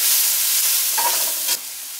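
Garlic and onion frying in a pan, a steady close hiss of sizzling that briefly swells with a stir partway through, then settles back to a constant fry.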